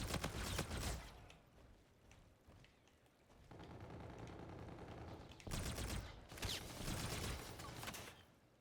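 Heavy gunfire in the Call of Duty shooter game, with dense bursts at the start and again near the end. A quieter stretch of mechanical rumble sits between them, and no one speaks.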